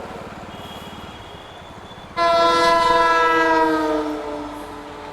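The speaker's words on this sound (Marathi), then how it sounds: "छोटी ट्रेन होती, पॅसेंजर ट्रेन वाटतं" A small passenger train passes a railway crossing in Rajasthan. A low steady rumble runs first, then a loud, sustained horn blares up close and fades slowly near the end.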